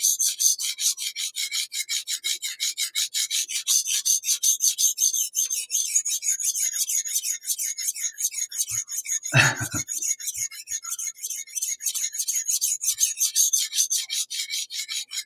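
A knife blade is sharpened on a sharpening stone in long, even strokes, a steady rhythmic rasping scrape that carries on without a break from start to finish, with a short low thump partway through.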